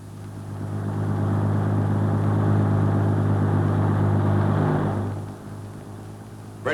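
Military vehicles rumble steadily across a newly built Bailey bridge, a loud continuous engine drone lasting several seconds before fading, with no voices.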